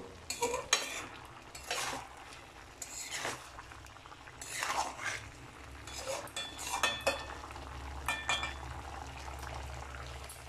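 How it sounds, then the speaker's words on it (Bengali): Ash gourd murabba stirred with rose water in a pot: soft, irregular scraping and clinking of a spoon against the pot, close and fairly quiet, with a low simmering hiss underneath. "গোলাপ জলটা সমস্ত অংশে খুব ভালোভাবে মাখামাখি করে নেব"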